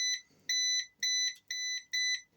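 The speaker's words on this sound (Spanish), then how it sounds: "En el momento que las pinzas se toquen, debería pitar." Four short electronic beeps from a Venlab VC-600D clamp meter continuity test as the probes touch, in a steady rhythm, high-pitched and clear, each lasting about a third of a second with brief gaps between.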